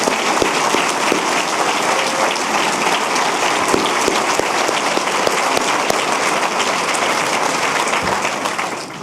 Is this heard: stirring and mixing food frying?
no